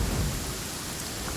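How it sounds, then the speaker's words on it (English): A thunderstorm in the game Genshin Impact fills the air with steady heavy rain and a low rumble of thunder, dense and continuous, with no one talking. "Uh-oh! Lightning storm!"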